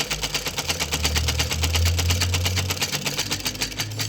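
Electric sewing machine stitching a pocket onto cotton pajamas, running steadily with a fast, even mechanical whir and rapid needle rhythm, close and continuous, with a brief slowdown near the middle.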